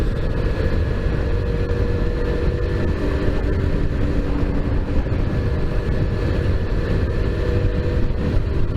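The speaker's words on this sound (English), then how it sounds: "Just how the motor sounds and stuff." A Boom Vader 125 motorcycle engine drones steadily while riding on a highway, a constant loud rumble mixed with wind buffeting and no break in the noise.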